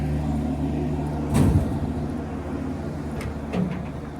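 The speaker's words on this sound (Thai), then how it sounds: "กองทัพตัดหญ้าเขาเอารถเข้ามา" A grass-cutting crew's vehicle rumbles in at low idle with a steady engine hum, broken by a couple of dull knocks or thumps.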